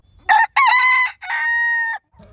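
A rooster crows loudly and close by, three strong harmonic bursts with the last call held long and steady, then a faint low rustle at the end.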